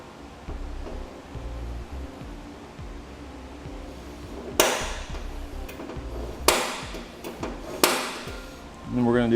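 Several sharp metal taps from a hammer striking a center punch against steel while marking the center of a hole during installation of a Demco Autoslide 5th wheel trailer hitch, about three distinct strikes, spaced apart over background noise.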